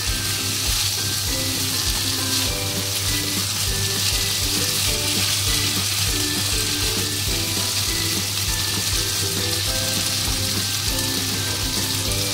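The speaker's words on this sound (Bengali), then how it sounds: "এইবারে জল দিয়ে দেবো।" Chana masala sizzles and fries steadily in a pan as water is added, a loud continuous crackling hiss running unbroken throughout with no talking.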